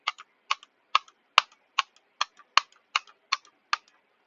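A computer mouse clicked in an even rhythm, about ten crisp, close clicks a little under half a second apart, each firing a revolver in the Roblox game Rivals, heard alone in silence.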